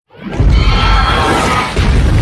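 A loud, sudden explosion in the film The Great Wall, with a deep rumbling boom that sustains and rolls on for a couple of seconds.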